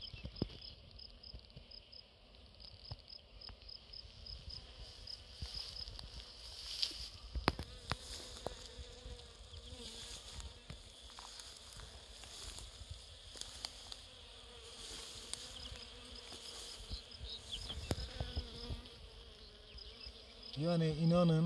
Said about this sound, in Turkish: Belki arı vızıltıları sizlere kadar geliyor, bilmiyorum.